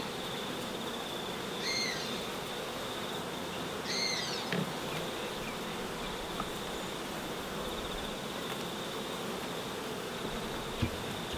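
Honeybees hum steadily around an open hive as frames of brood are worked, a dense close buzz throughout with a few louder passes of individual bees drifting near.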